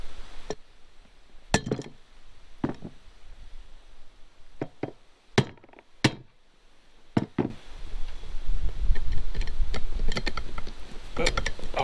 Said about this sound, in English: So use a screwdriver and a hammer usually.